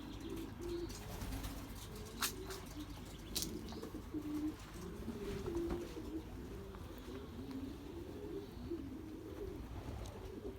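Belgian racing pigeons coo steadily in a loft, with soft overlapping throaty calls, a few sharp clicks and some wing movement at close range throughout.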